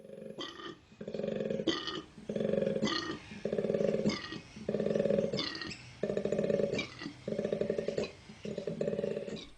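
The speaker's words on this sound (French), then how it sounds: "Je sais pas si vous avez déjà entendu le cri du koala, je parie que non." A koala bellowing in the Australian bush at night, a series of about eight deep, rasping roar-like grunts in regular pulses, loud and close, each burst a few seconds apart with brief gaps.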